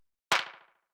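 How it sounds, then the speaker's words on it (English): A single sharp clap hit, bright and snappy, with a short fading tail, heard alone. "Next thing we have here is this clap, which sounds like this."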